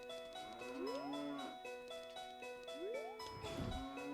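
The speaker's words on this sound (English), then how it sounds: "At least the cows make the moo sound." Cartoonish cow moos from the video game Ocarina of Time, two rising synthesized lows layered over steady background game music, with a brief thud near the end.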